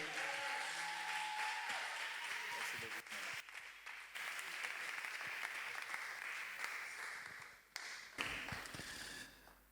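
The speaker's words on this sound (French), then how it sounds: "est-ce que nous pouvons acclamer pour la parole de Dieu?" A church congregation applauding together during a French-language sermon, a dense steady patter of clapping for nearly ten seconds, with a brief dip near the end and faint voices beneath.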